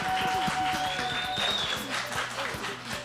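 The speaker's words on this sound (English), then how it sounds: "Big applause." Audience applause at a live talk show event, with claps layered over a rhythmic thumping beat and a voice or tones riding on top.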